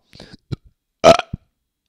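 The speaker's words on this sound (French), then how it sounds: "C'est quelle honte Du rot comme ça" A single loud, close burp rises abruptly after a few short, quiet vocal sounds in a comic French song setting.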